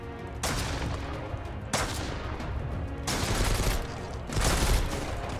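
Gunfire in the survival video game Mist Survival comes as several rapid bursts of loud shots, each starting with a sharp crack and followed by a rumbling tail, with no talk over them.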